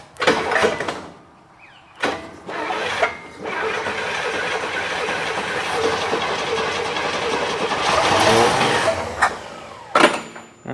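An International Scout engine fitted with a new carburetor cranks in short bursts, then catches and runs rough and loud for several seconds before faltering, with more brief cranking after.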